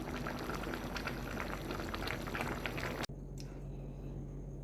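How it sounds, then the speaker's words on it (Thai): Boiling bamboo-shoot and pork-bone coconut curry ladled into a bowl, a steady bubbling and liquid pour that cuts off abruptly, leaving a quiet hum with a faint clink. "เดี๋ยวตักใส่ถ้วยถ้วยหนึ่ง"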